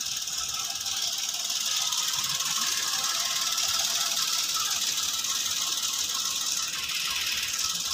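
A car engine idling at low RPM with a steady rough vibration and rattle, suspected worn engine mounts, a constant close mechanical hum running without pause and no talking.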